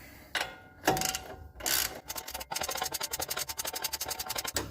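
A hand ratchet tightens bolts on a Rough Country 2.5 inch leveling kit for a 2015 Ram 1500, with a few scraping pulls, then a steady run of fast, close clicking.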